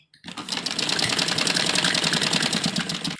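Sewing machine stitching the sleeve of a printed kurti in one continuous close burst of rapid, evenly pulsing needle clatter lasting a few seconds.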